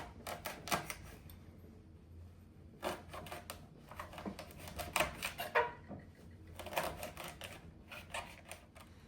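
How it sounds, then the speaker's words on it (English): A kitchen knife chops fresh thyme sprigs on a cutting board, making quick clustered taps in irregular bursts, close and moderately quiet. "So I'm just going to cut these sprigs up."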